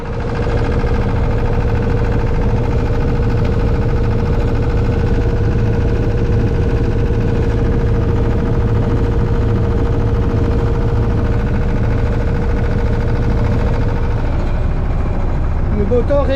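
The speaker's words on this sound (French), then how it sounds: "Le moteur est en prise." Boat engine running in gear, a steady loud idling drone with a constant tonal hum throughout, a voice speaking over it.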